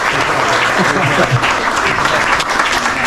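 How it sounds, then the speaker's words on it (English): A crowd at the Mr. Crappie Invitational 2024 fishing tournament breaks into loud, sustained clapping that stays dense and close for several seconds, with cheers and voices mixed in. "Let's give him a round of applause."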